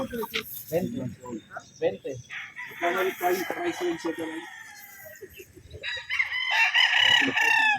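Young stag gamecocks crowing at a gamefarm, several loud crows overlapping one another in quick succession, with clucking and people talking underneath throughout.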